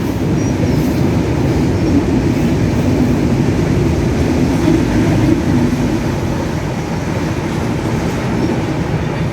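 A train passes on a railway line in Bangladesh, a loud, steady rumble of wheels and carriages with faint clickety-clack throughout, close and sustained.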